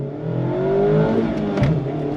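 A 2023 Mazda MX-5 RF Miata with a manual transmission revs its engine on throttle, a loud steady rising engine note heard from inside the car, with no talking.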